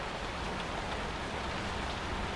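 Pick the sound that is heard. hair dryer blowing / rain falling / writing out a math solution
rain falling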